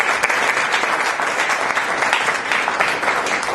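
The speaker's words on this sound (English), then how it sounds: "So I think we should give our panelists another round of applause." Dense, loud applause from a crowd at a young professionals' community forum, given for panelists, steady and continuous for the whole short stretch.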